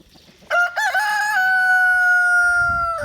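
A rooster crows once, loud and near, in a long drawn-out call that holds steady before trailing off.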